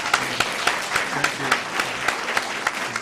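Town meeting audience applauding the select board, many hands clapping in a fairly rhythmic, pulsing pattern with regular louder beats, moderately close and without talk over it.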